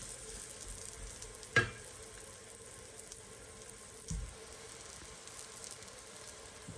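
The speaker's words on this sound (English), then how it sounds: "Now it's cooking." An egg frying in a pan: a faint, steady hiss that runs throughout, with a couple of brief clinks or taps, and no talking.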